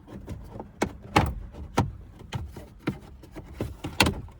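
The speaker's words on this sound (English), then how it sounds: "get in here and just start popping the pressure clips loose" Plastic pressure clips on a Jeep Liberty dashboard trim panel pop loose as it is pried off: a close series of sharp snaps and clicks at irregular intervals, with softer rustling between them.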